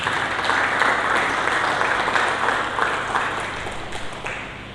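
A church congregation applauds during a sermon, a broad sustained wash of many hands clapping at steady loudness that slowly tapers toward the end.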